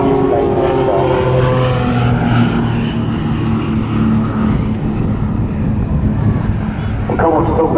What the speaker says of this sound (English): Making it the Extra NG a really fast display aircraft.